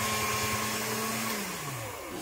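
Polymer clay runs through the rollers of a motorized pasta machine, a steady close mechanical hum whose pitch slowly drops toward the end as the motor strains.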